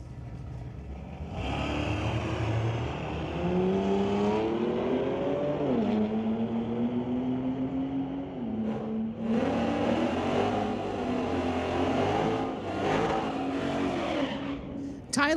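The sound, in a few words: drag racing cars, 1978 Ford against 2008 BMW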